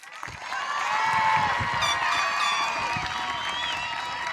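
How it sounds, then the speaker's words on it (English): A graduation crowd at Montgomery High School's 2026 ceremony applauds the students, with sustained clapping and scattered cheers and whoops filling the hall steadily after a quiet start. "Let's give them a round of applause."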